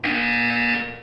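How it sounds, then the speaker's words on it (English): A single loud, harsh buzzer from the Portal 2 video game, a steady droning tone sustained for nearly a second before quickly fading out. "When you hear the buzzer, look up at the ceiling."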